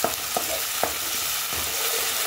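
Cooked white peas go into a ragda pan and are stirred through, with a steady background sizzle and a few distinct spoon scrapes and knocks against the pan, close and evenly loud.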